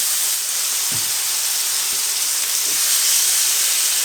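Pork chops sizzling on a grill set on low, a steady loud hiss throughout with a few soft knocks as the meat is laid down.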